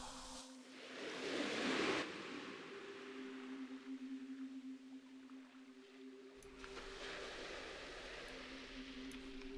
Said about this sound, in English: These are some waves on the beach.